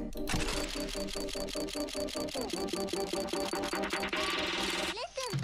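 Rapid ticking clicks of a CS:GO Hydra Case opening spin, a steady rhythmic ratchet over game music, slowing and ending with a short reveal chime near the close.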